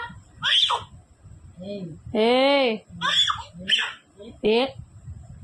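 A young child lets out several high-pitched screams and squeals in short bursts, close by, with one longer shriek in the middle.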